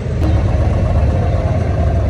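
A boat engine rumbles steadily and loudly as the boat gets underway on the water in Dubai, a continuous low drone with no pauses.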